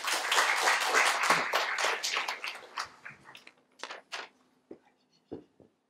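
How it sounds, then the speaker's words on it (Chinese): An indoor conference audience claps loudly and densely to welcome a speaker at a cyberbullying forum, then the applause thins into a few scattered, fading claps. "那我们是不是用掌声来欢迎彭仁朵？"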